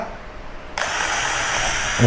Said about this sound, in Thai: มาลองเจาะไม้ดูครับ เจาะเลยนะครับ